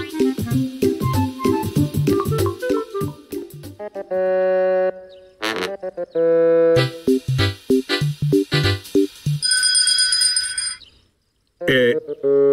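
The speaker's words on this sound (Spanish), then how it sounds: "¿Eso que suena no es una campana?" Bright, chiming bell tones ring out in a Pocoyo cartoon, repeating in several clear bursts among other tinkling musical effects, loud and close with brief pauses between.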